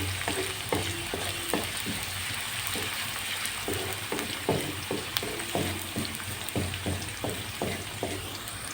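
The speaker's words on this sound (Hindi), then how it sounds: "प्याज इतना ही फ्राई काफ़ी है।" Onion frying lightly in hot oil in a home kitchen, with a steady close sizzle and crackle broken by frequent scraping clicks of stirring.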